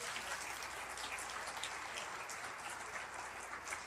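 A church congregation applauds during an Easter sermon, a steady dense wash of clapping that holds evenly throughout, faint and somewhat distant.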